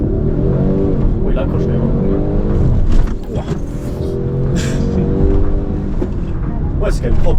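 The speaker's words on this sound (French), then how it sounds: "Test d'un launch control sur route fermée." A Land Rover Defender accelerates hard from a launch control start on a closed road, its engine droning loudly and steadily throughout with a brief dip partway, while people talk over it.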